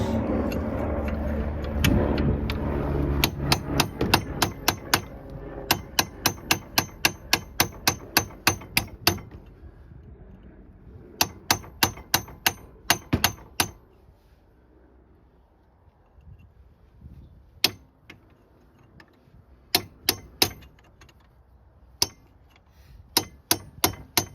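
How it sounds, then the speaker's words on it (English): Sharp metal hammer strikes ring out on the front wheel bearing of a 2014-or-later Jeep Cherokee, coming in fast rhythmic bursts of a dozen or so blows separated by pauses, then slowing to scattered single hits over a quiet background. "Right now, I'm gonna try to just hit this ear."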